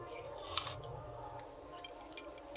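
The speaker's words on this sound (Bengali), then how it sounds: "এবার এখান থেকে ছোট ছোট ডো কেটে নেব" Small pieces being cut from carrot and semolina dough for pitha, a few quiet, sharp snips or taps spaced irregularly over a faint kitchen background.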